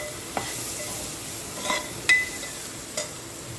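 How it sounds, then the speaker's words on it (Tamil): Onions frying with turmeric in a pan while being stirred: a soft, steady sizzle with a few light scrapes and clinks of the spoon against the pan, close and with no talking. "எல்லாத்தையும் ஒரு கிளறி விட்டுக்கலாம்."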